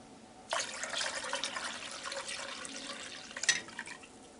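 Tap water pours into a cast iron Dutch oven for corned beef, a steady splashing stream that starts abruptly and runs continuously, fairly faint, with a brief louder splash near the end.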